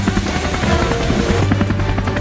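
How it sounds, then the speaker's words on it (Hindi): Comedy-skit helicopter effect: a loud, steady rotor chop with a whining engine drone, thumping rhythmically and continuously from start to finish with no voices. "अब हेलीकॉप्टर को कौन चला?"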